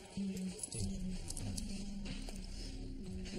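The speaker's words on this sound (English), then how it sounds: "Keys" A bunch of keys jingles faintly during a search at a desk, with brief soft rattles and shuffling handling sounds in a quiet room.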